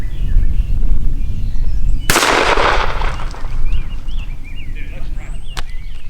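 A Mossberg 500 20 gauge shotgun fires a single Winchester Longbeard turkey shell outdoors: one sharp, loud blast with a broad crack and a rolling tail that fades over a few seconds above steady background noise.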